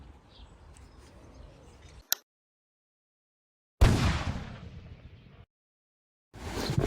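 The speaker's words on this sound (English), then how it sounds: "the idea here is just to see how consistent the gun is, or how accurate it is, shooting off a solid platform" A Luger P08 airsoft pistol fires from a solid rest: a short sharp snap, then a louder burst with a decaying tail, and another shot starting at the end, separated by near-total silence.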